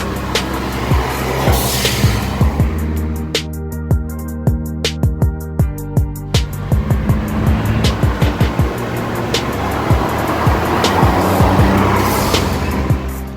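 A turbocharged, modified Honda Civic with a stage 2 street clutch, a BMC cold air intake, a piggyback ECU and a Garrett turbocharger revs hard close by, with loud engine noise broken by rapid, regular clicking or popping bursts and tire squeal.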